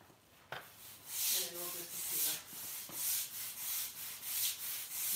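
A stiff brush scrubs a wet driveway to lift black tire marks, making rhythmic rasping strokes, faint and close, with a brief voice mixed in.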